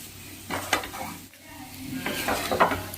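Chicken masala stirred in a pan, a soft sizzle under intermittent scraping strokes and clinks of utensil on metal in two short bursts, close and fairly quiet.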